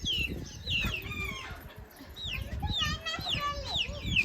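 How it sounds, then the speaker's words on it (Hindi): A desi hen clucks near her chicks, whose high, rapid peeping chirps fill the scene, with children's voices and talking mixed in close by outdoors. "ये देखिए असली देसी मुर्गी के चूजे, और वो उनकी मम्मी है या पापा है पता नहीं।"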